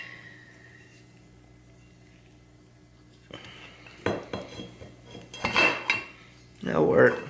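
Metal parts of a Coleman 200A lantern pump clinking as it is taken apart, near, with quiet handling at first, then sharp scattered clinks and rattles.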